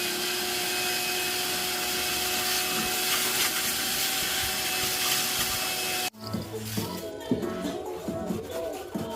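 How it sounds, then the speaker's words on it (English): Shop vacuum cleaner running close by, cleaning the intake area of a 2011-or-later Chrysler 300 during repair, a loud steady whine that cuts off abruptly after about six seconds, followed by clattering and handling noises. "We will vacuum it."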